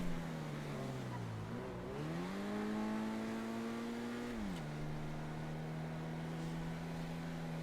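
A car engine in the GTA V FiveM roleplay game revs up and down in smooth sweeping pitch changes, holding a steady drone between rises, quiet and continuous with no talk.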